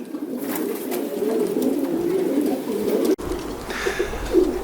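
Racing pigeons coo in a loft, low throaty murmurs overlapping from several birds close by, with a brief cut partway through and a few higher calls near the end.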